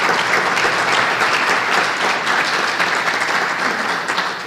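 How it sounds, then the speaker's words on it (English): Dense, steady applause from a large crowd at a ribbon-cutting ceremony, loud and continuous throughout with no breaks. "give yourself a round of applause"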